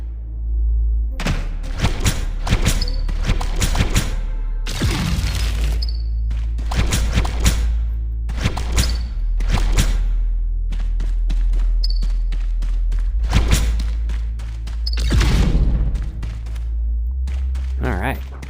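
Frag grenades detonating in the VR shooter Into Black, a series of heavy, booming blasts spaced a few seconds apart, loud and close, with a voice talking between them.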